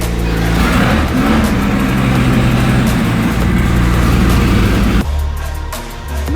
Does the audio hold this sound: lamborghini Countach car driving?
yes